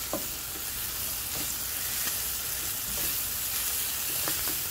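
Spinach wilting in a skillet, a loud steady hiss and sizzle filling the whole stretch, with faint occasional stirring taps underneath.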